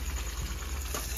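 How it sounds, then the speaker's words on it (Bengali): Marinated chicken tipped into a hot pan for a Punjabi-style chicken gravy gives off a steady, fairly quiet sizzle and hiss that runs unbroken through the short moment, with no voices. "বন্ধুরা 1 ঘন্টা হয়ে গেছে, ম্যারিনেট করে চিকেনটা ঢেলে দিচ্ছি।"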